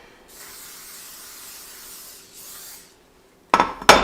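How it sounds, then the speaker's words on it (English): Cooking spray hisses onto a pie plate in two steady bursts lasting a couple of seconds, close by, followed by a sharp clatter of handling at the end. "I'm getting another pie plate. We're gonna spray this one as well."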